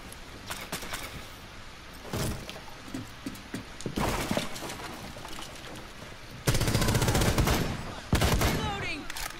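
A video game shootout sounds off with loud bursts of rapid gunfire and scattered single shots, the heaviest volleys coming near the end, some overlapping and some spaced apart.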